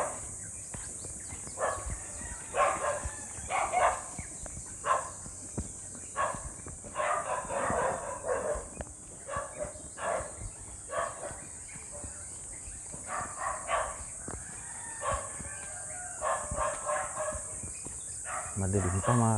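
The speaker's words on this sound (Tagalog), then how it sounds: "Nag-aaway yung mga aso." Several dogs bark and snarl in a scuffle near houses before dawn, with sharp repeated barks in bursts throughout and a rooster crowing in the background.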